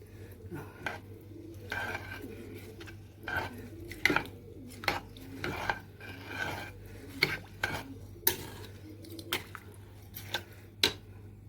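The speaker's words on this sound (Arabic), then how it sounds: "ونقلبه بقى كويس جدا" Rice is stirred in a metal pot with a utensil. Repeated scraping and clinking strokes come in an irregular rhythm, close and moderately loud over a low background hum.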